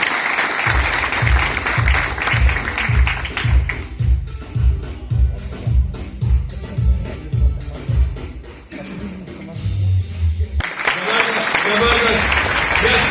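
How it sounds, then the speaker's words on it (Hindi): A seminar audience applauds for Ajit, a business-building seminar in Siliguri, West Bengal; a crowd's loud, sustained clapping with rhythmic beats, some cheering voices mixed in throughout. "जोरदार ताली अजीत के लिए प्लीज"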